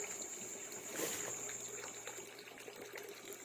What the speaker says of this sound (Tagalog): Sa pamamagitan po nito, tinutulak niya po yung tubig para umikot po sa buong tank.